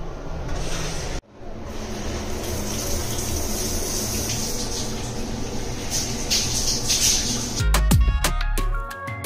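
A shower runs in an Airbnb rental, a steady close rush of water that cuts out briefly early on and then continues, with some clattering near the end.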